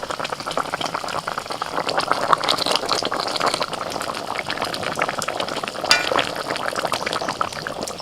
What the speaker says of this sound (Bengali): মশলা ফুটে গেছে, এবার একে একে ভাজা মাছ দিয়ে দিচ্ছি।